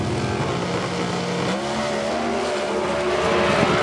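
Comp Eliminator drag race cars launch off the line together at Belle Rose, Louisiana, with loud, sustained engine roar, rising revs and shifting tones, plus a brief tire screech as they pull away. No talking is heard.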